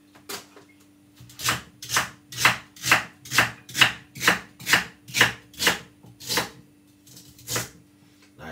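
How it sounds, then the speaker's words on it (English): A knife chops celery on a cutting board in about a dozen crisp, evenly spaced strokes, close and loud, slowing slightly at the end. "that's the celery I just cut up"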